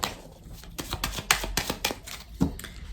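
A deck of Lenormand oracle cards is shuffled by hand close up, a run of crisp riffling flutters and soft taps in an uneven rhythm, with no talking.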